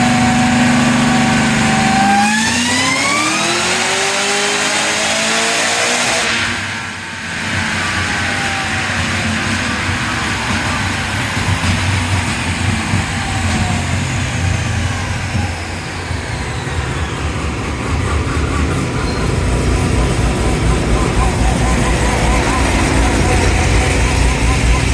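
A 1000hp supercharged Kong engine on a dyno: a loud, steady engine note climbs sharply in pitch and then holds at a high roaring drone with a dense, harsh mechanical texture throughout.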